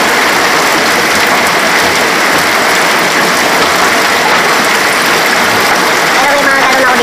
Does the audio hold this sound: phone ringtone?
no